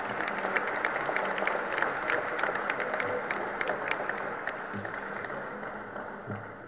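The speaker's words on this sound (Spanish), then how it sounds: "Un fuerte aplauso, por favor." Sustained audience applause at a sports committee session after a recognition is announced, a dense steady patter of many hands clapping that fades slightly toward the end, with no voices over it.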